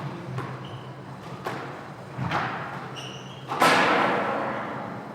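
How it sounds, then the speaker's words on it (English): A squash ball at the Namibian Open strikes the tin at the bottom of the front wall with a loud, sharp bang that rings out, following several lighter thuds of the ball during a rally in an indoor court. "the loud bang there. She hit the tin at the bottom"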